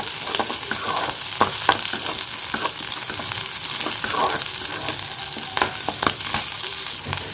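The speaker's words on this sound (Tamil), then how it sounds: "பச்சை மிளகாய் சேர்த்து நல்லா வதக்கிக்கலாம்" Green chillies and carrots sauté in a hot pan, a steady, dense sizzle with occasional stirring scrapes and clicks running throughout, close and loud.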